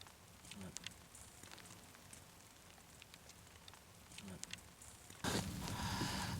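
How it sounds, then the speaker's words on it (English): Light rain falls in the Utah desert at nightfall, a faint, steady crackling patter on surfaces with a few slightly louder ticks, heard alone with no talk. "It's raining a little bit."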